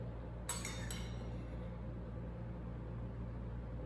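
A metal spoon gives two quick, bright clinks against a dish while scooping bone marrow, then only a low steady hum remains.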